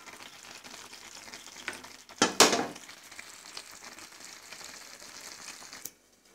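Tomatoes and green chillies sizzle and fry in a pan, with a steady soft crackle, a louder burst of spattering stirring midway, then settling before falling quiet.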